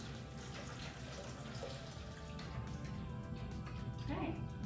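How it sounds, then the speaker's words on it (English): Milk is poured a little at a time into yeast and whisked together for Jersey milk and honey bread, giving a continuous close liquid splashing and swishing under faint background noise, with a brief louder slosh near the end. "So I pour my yeast in, and my milk a little bit at a time. You want to make sure you're whisking it all together."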